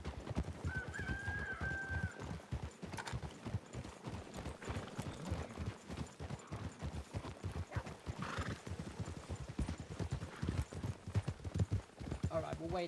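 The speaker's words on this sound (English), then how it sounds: "Watch out for the horse." A horse clip-clops along in a steady rhythmic walk with repeated close hoof strikes, a brief whinny near the start, and people talking over the hoofbeats in a game setting.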